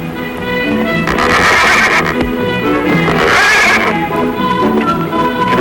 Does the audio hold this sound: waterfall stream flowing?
no